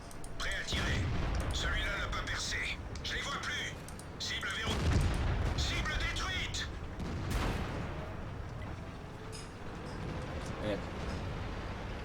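Heavy tank cannon fire and booming blasts from the World of Tanks video game, a few loud shots spaced apart amid engine rumble, with excited talk running over most of it.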